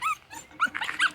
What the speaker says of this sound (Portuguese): Cachorrinho de Bruno aí.